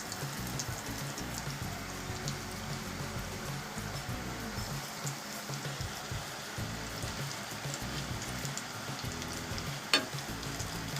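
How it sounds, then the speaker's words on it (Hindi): Chicken and potato lollipops fry in hot oil over low heat, a steady dense sizzle with fine crackling pops running throughout, plus one sharper tick near the end. "और आपको धीमी आंच पे तलना है इसको।"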